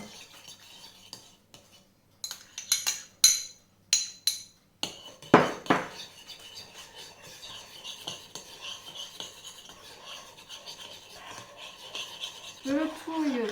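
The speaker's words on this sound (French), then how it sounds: "Je le touille pour le rendre mou." Butter is stirred in a baking dish with a utensil, giving sharp clinks and scrapes that come in uneven clusters and then settle into softer, steady scraping. A voice talks quietly in the background.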